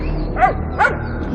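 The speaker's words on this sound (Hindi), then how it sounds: "उसका भौंकना तो बंद होने का नाम ही नहीं ले रहा था।" A pet dog gives two sharp, close barks in quick succession inside a house, loud and clear over a quiet background with no talking.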